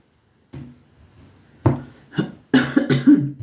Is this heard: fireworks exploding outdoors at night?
no